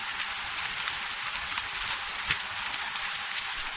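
Steady, dense rain hisses evenly throughout, with an occasional louder drop or splash standing out close by.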